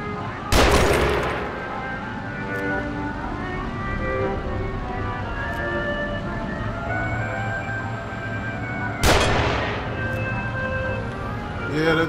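Two loud, sharp gunshots from enemies in The Evil Within ring out about eight seconds apart, with a low tonal game ambience humming between them.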